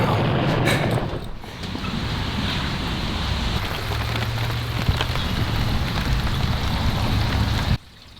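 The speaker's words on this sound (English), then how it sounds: "Are you enjoying the rain?" Rain falls steadily near a van, a dense, close hiss of drops with occasional heavier patter, continuing until it cuts off abruptly near the end.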